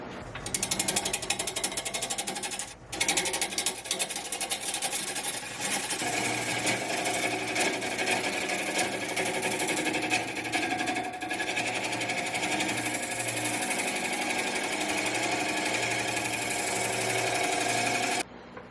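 Woodturning lathe with a scraper flattening the cracked bottom of an Osage orange bowl, a steady loud rattling whir with rapid chattering that continues almost unbroken, with a brief dip early on.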